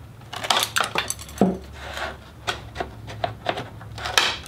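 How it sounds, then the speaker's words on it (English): Cutters snipping excess material during a foam model plane build, heard as a series of sharp close clicks and snips with light handling clatter between them. "Now grab your cutters and just cut off the excess."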